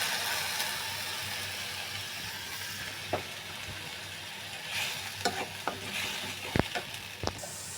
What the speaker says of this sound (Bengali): মশলা কষানো হচ্ছে